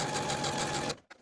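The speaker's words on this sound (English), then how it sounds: "you can sew this seam again with a 3/8 inch seam allowance" A sewing machine stitching a fabric seam with a 3/8 inch seam allowance, running loud and steady with a fast rhythmic whir for about a second, then stopping abruptly.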